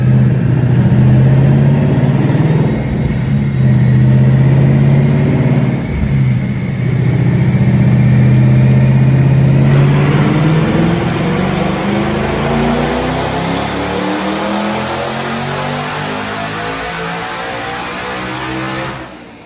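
A twin-turbo Mustang engine strains through a loud dyno pull, its revving tone climbing steadily as the run builds, then easing into a lower, fading drone toward the end.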